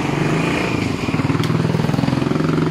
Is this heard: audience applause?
no